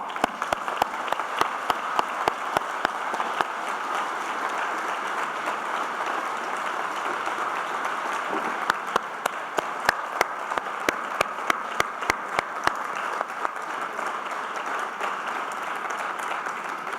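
A sustained round of applause for two laureates at a Geneva summit, many hands clapping evenly throughout, with a few sharper individual claps standing out above the steady wash.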